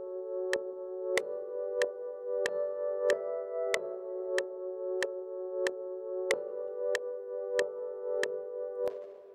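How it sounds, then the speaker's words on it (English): FL Keys Roots preset layered with a guitar in an FL Studio beat remake, steady evenly spaced plucked notes with crisp clicking attacks over a sustained mellow tone, quiet and alone without voices. "So this sound is coming from FL Keys and FL Stock plugin. The preset is Roots from FL Keys."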